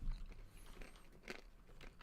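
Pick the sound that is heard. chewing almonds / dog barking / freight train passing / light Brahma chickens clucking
chewing almonds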